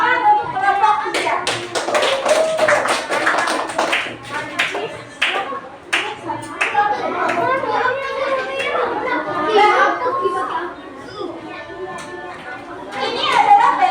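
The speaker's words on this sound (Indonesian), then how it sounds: "Beri tepuk tangan untuk kelompok 3." Children in a third-grade classroom clap for a group, sharp irregular hand claps that burst and trail off, mixed with lively kids' chatter and voices throughout.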